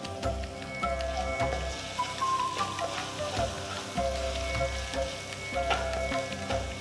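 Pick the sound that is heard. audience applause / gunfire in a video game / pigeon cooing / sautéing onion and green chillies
sautéing onion and green chillies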